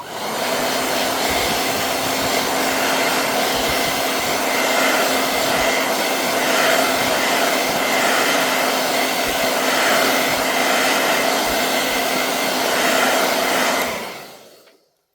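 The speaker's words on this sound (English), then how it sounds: "put on the hairdryer again," A hair dryer blows steadily at close range with a loud, constant whooshing hum, then cuts off abruptly at the end.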